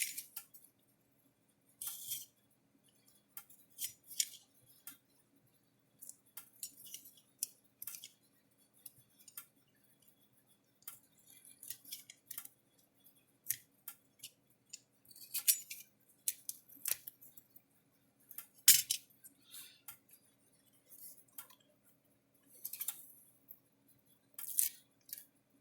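Scissors snip through double-sided foam tape in a quiet workshop, with short, crisp cutting bursts repeating irregularly and close, alone without talk.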